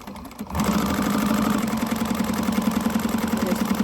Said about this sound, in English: I'm going to stitch at the seam allowance that she gives you